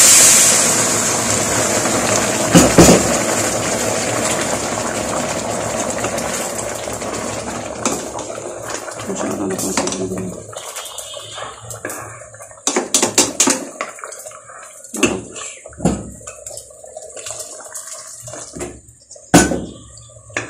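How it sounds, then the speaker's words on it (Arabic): Boiling water is poured over rice with vermicelli in a pot, a steady loud gushing stream for about ten seconds, then fading into intermittent splashes, drips and clinks of the pot. "انزل بقى بميه بتغلي، لازم تكون ميه بتغلي."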